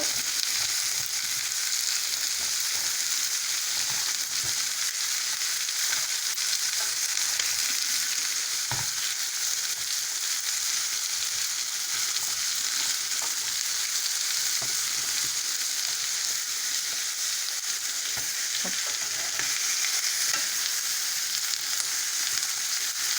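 Zucchini frying in a pan, a constant close sizzle running throughout with a few soft scrapes and knocks as the pieces are turned, no talking.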